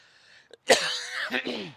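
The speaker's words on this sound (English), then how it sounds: "Cough break." A person coughs once sharply and close, followed by a few rough throat-clearing sounds in a quiet room.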